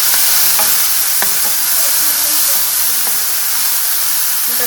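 Steady, loud sizzling of cumin, ginger, garlic and onion frying in hot oil for a dal tempering, with a few light clinks of a spoon stirring in the pan.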